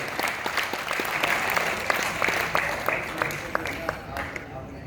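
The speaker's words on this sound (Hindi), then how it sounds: "एक बार दोनों हाथ उठे, जोरदार तालियों से प्रविंदर पाल जी का अभिनंदन करें, स्वागत करें।" An audience bursts into loud, sustained applause at a university drama event, many hands clapping steadily throughout with sharp individual claps standing out.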